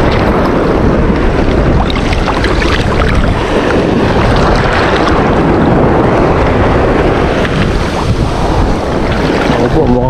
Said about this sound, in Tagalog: lumalakas na ang alon